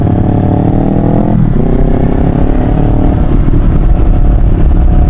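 A brand-new powerful motorcycle roars close and loud, its engine revving hard and then dropping and climbing in pitch, with rattling mechanical clatter underneath.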